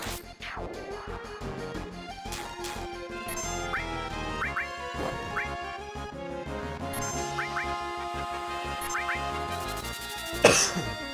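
A person coughs a couple of times, one short cough near the start and a sharper burst near the end, over Final Fantasy VII game music playing in the background.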